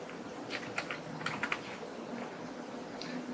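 A computer keyboard clatters with a short, quiet burst of typing, a few clustered keystrokes followed by a pause and one last tap, close and alone while entering a spreadsheet field.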